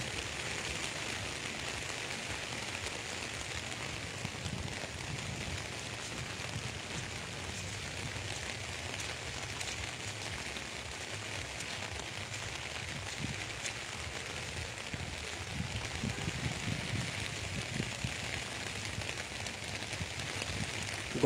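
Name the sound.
continuous rain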